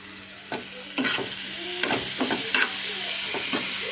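Watermelon rind curry fries in a pan with a steady sizzle, broken by several sharp scraping stirs of a spoon against the pan.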